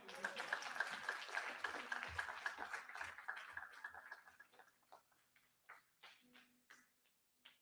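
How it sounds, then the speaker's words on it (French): Audience applause for three volunteers at a church sermon fills the start, a dense wash of clapping that thins out into scattered, fading claps by the end, with voices murmuring beneath. "Est-ce qu'on peut les applaudir?"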